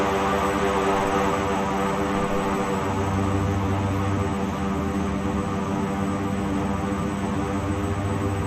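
The steady, droning turboprop engines of an AeroCommander 690B in the X-Plane 11 flight simulator run continuously and loud, with a constant hum and no voices.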